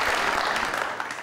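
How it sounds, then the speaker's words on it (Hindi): Studio audience on a Pakistani TV talk show claps as a guest is welcomed: a short, dense, steady burst of applause close to the mics. "बहुत सारी तालियां।"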